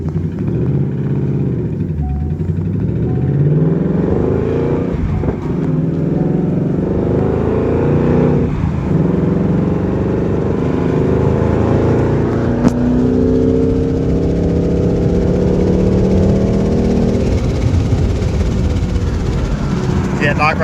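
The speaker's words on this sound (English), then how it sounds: "See that knock right there under a light load?" A 2019 Mustang GT with a Whipple supercharger on its factory tune, suspected of rod knock under light load, drones loudly and steadily while driving, its engine and road noise rising and falling in pitch.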